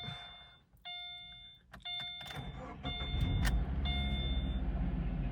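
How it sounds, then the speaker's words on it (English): A series of electronic chimes rings, then a 2013 Subaru Impreza's replacement engine cranks and catches, settling into a steady, rumbling idle close by. "So let's start her up."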